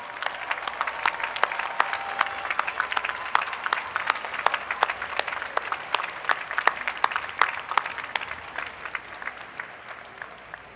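Sustained audience applause at a university graduation ceremony honoring early graduates, dense clapping filling a large outdoor venue steadily for about ten seconds, moderately loud and even throughout.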